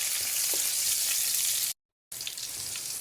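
Onions sauté for chicken feet and neck adobo, a bright close sizzle with stirring, briefly cut to silence before the frying resumes.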